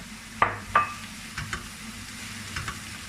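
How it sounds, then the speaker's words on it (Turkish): Soft sizzling of chopped green peppers sautéing in a pan, with a few quick stirring scrapes. No one speaks. "Onların hepsini birlikte soteleyelim."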